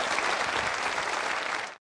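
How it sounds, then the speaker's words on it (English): Audience applause for party leaders at an Irish election debate, a dense burst of clapping from a crowd that continues steadily then cuts off abruptly. "May I ask our audience to say, with their applause, thank you to our party leaders."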